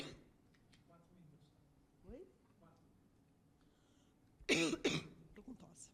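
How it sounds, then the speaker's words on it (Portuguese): A woman on a round-table panel coughs twice in quick bursts, close and loud after a quiet stretch of faint room noise and throat sounds. "Estou com tosse."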